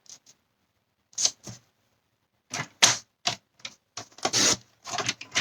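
Card stock being trimmed with a paper trimmer while making a gate-fold peek-through card, heard as a series of short, crisp cutting and sliding strokes in irregular bursts, fairly close and with no talk.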